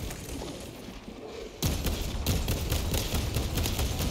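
A heavy weapon fires in Warhammer 40,000: Space Marine 2, with loud, rapid, thumping shots starting abruptly after a quieter stretch of battle noise and continuing in a dense rhythm over a rumbling background.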